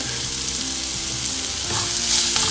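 Food sautéing in a pan with salt and black pepper for loaded nachos gives a loud, dense sizzle that runs steadily throughout, close and with no voices.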